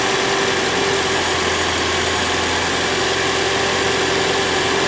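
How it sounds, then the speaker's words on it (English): A Toyota Prius internal combustion engine idles steadily, a continuous close-up hum with a low drone and constant broadband noise throughout, no voices. "The internal combustion engine has started"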